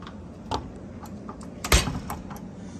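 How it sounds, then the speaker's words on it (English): A key turns in a door's lock and the bolt slides through, giving a few light metallic clicks and a sharper clunk near the middle, close and alone with no talk. "Keys in the lock, you'll see the bolt go through."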